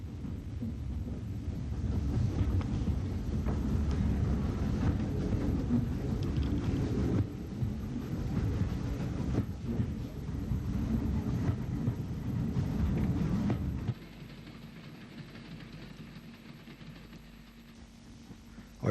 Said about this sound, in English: Our train approaches Omagh